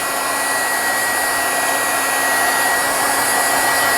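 A heat tool blows steadily over embossing ink and Wink of Stella shimmer on a board-book journal cover, a close, loud, unbroken whirring hiss with a thin high whine, no voices.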